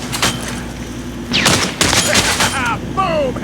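Automatic gunfire in Modern Strike Online, a mobile shooter game, rattles in dense bursts amid explosions and whooshing effects, loud and close with game sounds layered between volleys.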